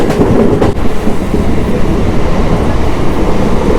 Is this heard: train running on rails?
yes